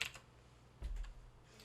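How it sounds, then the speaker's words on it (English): Computer keys pressed for a Control and slash shortcut, a few soft separate clicks and taps heard close up against quiet background, no talking. "press Control and / on your keyboard"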